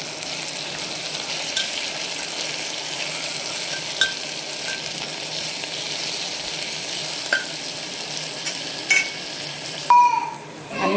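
Spices and salt being stirred in a pan while making khichdi: a faint continuous sizzle with scattered light clicks and scrapes of a spoon against the pan, ending with a few louder utensil knocks.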